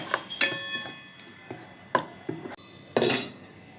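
Moong dal batter stirred briskly in a bowl with a spoon, giving several sharp clinks and scrapes of metal against the dish in an uneven rhythm, close and clear.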